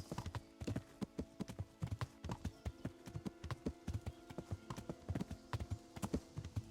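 Horse hooves clip-clop steadily in a fast, even rhythm as a rider travels in Kingdom Come: Deliverance, each hoof strike crisp and close over a faint tonal background, with no talking.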